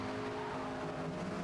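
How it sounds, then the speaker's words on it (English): Race cars in Forza Motorsport launch off the line at the race start, a dense, steady engine roar with a slight rise in pitch, close and loud throughout the short burst. "Race start, and we get a good kick off the line."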